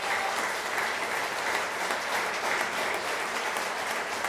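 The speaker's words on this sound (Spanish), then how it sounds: "Denle un aplauso a su hijo de pie." A crowd at a tribute event gives dense, sustained applause, loud and steady throughout with no pauses and no voices on top.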